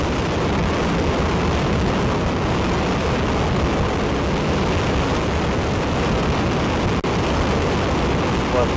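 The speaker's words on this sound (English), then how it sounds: "We have ignition of the Ares 1 first stage 5-segment solid rocket motor." A NASA Ares I first-stage five-segment solid rocket motor roars in a static test firing, a loud, continuous broadband blast that holds steady for the whole stretch.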